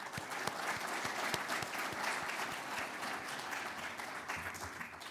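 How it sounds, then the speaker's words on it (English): Audience applause at a community-based tourism summit: sustained clapping from a large crowd, fairly even and dense throughout, heard from a moderate distance. "Please join me in giving them a round of applause for taking time of their busy schedule to contribute to this summit."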